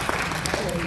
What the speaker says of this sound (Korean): 윤호중 의원님 가시는 길에 박수로 배웅해 주시면 감사하겠습니다